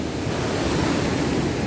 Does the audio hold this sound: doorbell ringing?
no